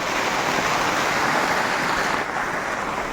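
Heavy rain falls steadily and close by, a continuous broadband rush with no pauses and no voices.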